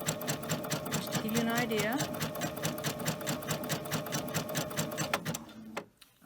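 A sewing machine with a twin needle stitches a zigzag on plain fabric, a fast even mechanical whirr that runs continuously and stops near the end, with a person talking over it.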